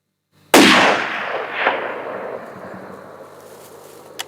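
A single loud rifle shot fired at a deer while hunting, a sharp crack followed by a long rolling echo that fades over several seconds outdoors, with no talk.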